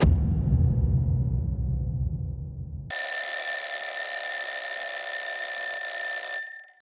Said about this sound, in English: I have my alarm clock, like most of us do these days, on my phone